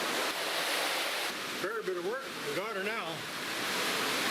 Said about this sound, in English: There's so much water screaming down this overpass now that it's taking a lot of mud with it